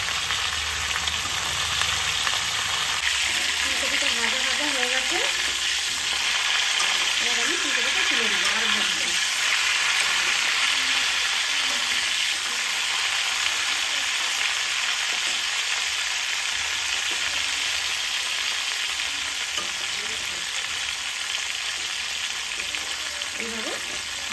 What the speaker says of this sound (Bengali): আদা নুন গায়ে মাখিয়ে দিয়েছি এবার কপিগুলো আমি ভেজে নেব